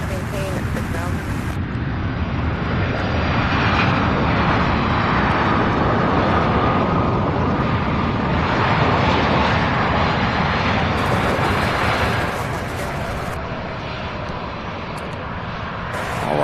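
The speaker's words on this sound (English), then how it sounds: "we have another 767." Boeing 767 jet airliner at Louisville International Airport, a loud, broad engine roar that swells and slowly fades over many seconds while people talk intermittently nearby.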